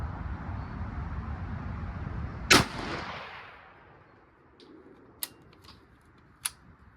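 A Mauser 98 rifle fires one loud, sharp shot at an outdoor shooting range, and the report rings out and fades. A few faint mechanical clicks follow in the quiet afterward.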